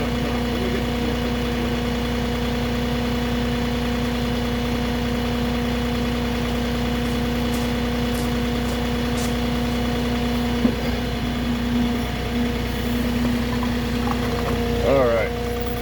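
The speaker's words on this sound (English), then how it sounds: "Let me get the forklift." A forklift engine idles steadily at a factory loading area during a flatbed pallet delivery, a constant mid-low drone holding for the whole stretch, with brief clanks and a rising whine near the end.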